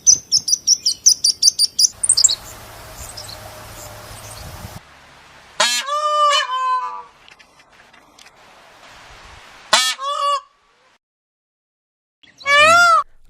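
Birds chirp outdoors in a quick run of loud, rapid tweets at the start, then give scattered bursts of song and calls separated by near silence.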